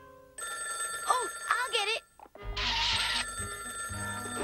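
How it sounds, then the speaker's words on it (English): A cartoon telephone rings in repeated electronic bursts, with animated character voices calling out between and over the rings. "Let Misty get the phone"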